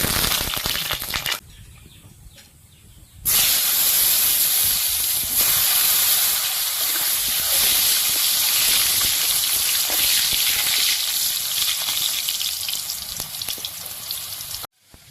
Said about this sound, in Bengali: গরম হয়ে গেছে, তেল দিয়ে প্রথমে আলু কটাকে ভেজে নেব।